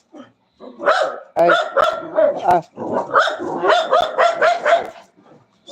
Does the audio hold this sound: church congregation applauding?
no